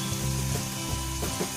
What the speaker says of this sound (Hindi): इसको हम मिक्स कर लेंगे और इसको सौटे कर लेंगे